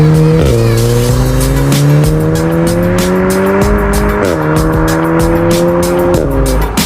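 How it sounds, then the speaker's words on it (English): A Volkswagen MK7 Golf R with its stock catalytic converter and a resonator delete drives past loudly, its engine note climbing steadily through the gears with brief dips at each shift over nearly seven seconds. "So this drive-by clip is with the standard CAT still installed, but the car does have a resonator delete."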